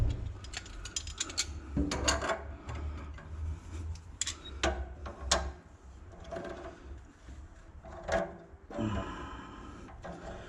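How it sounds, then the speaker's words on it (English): Backer wrench tightening a pipe fitting on a water heater: quiet, irregular metallic clicks, clanks and ratcheting scrapes spread across the clip, close by with no speech. "Put my backer wrench here and tighten it up."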